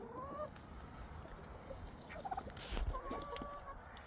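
Chickens cluck and murmur near a homemade water dispenser, several short calls near and far, with a louder burst of clucking toward the end.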